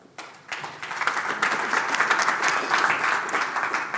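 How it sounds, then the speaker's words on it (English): An audience applauds as panelists walk on stage at a 5G services panel discussion, a dense, sustained round of clapping that swells after a quiet start and stays full and close. "A round of applause, please, whilst they're strolling up to the podium"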